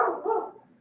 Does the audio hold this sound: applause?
no